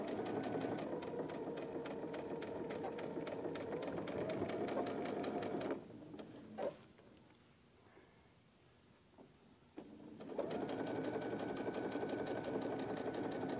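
A domestic sewing machine stitches flying geese quilt blocks with a steady, close mechanical whir. It pauses for a few seconds while the fabric is repositioned, with small clicks and handling noise, then starts stitching again.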